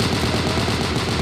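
An M1919A6 machine gun in Unit 1968 hip fires in a rapid, continuous burst, the loud rattling shots stacking into an unbroken stream with no pauses and no talking.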